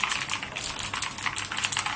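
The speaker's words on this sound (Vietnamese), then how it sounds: "gõ nó có tiếng như thế này thôi, các bạn nghe tiếng cạch cạch thôi" Fast typing clatters on an RGB mechanical keyboard with blue or red switches, a dense run of sharp, close clacking keystrokes with no talking.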